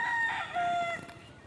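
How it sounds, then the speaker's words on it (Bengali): A rooster crows nearby, one drawn-out call with a few clucks from chickens beneath a building, close and clear. "মুরগি আছে"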